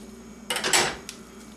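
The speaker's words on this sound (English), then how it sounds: "Stir like crazy." A brief clatter of a utensil scraping and knocking inside a metal pot of cream puff dough, a couple of quick strokes followed by one small tap, close by.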